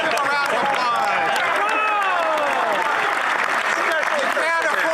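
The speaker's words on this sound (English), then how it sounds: "Come on, give him a round of applause." A parliamentary chamber fills with steady, dense clapping that runs throughout, mixed with crowd noise and overlapping voices talking and calling out.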